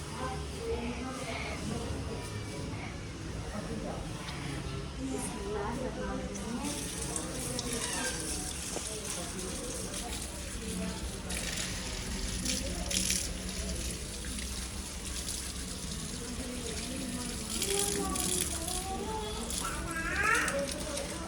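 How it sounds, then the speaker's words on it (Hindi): Chillies being washed under a running kitchen tap, a continuous splash and gush of water with occasional drips, heard beneath a person talking. "अभी इन मिसालों को धुलाई करते हैं"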